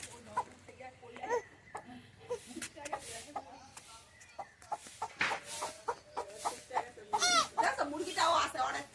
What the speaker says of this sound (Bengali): মুরগিটাও আছে অনেক, যায় না।